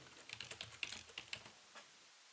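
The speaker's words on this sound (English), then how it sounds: "Then you type in your name." Rapid typing on a computer keyboard, an irregular run of light clicky keystrokes that slows and stops near the end, close and fairly quiet with no voices.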